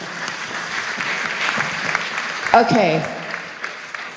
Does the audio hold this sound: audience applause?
yes